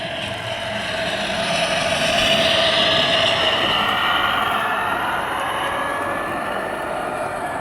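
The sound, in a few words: G scale garden railway model locomotive running on track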